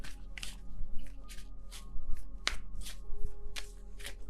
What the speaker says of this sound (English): I don't know why I want to shuffle so much, but I feel like it.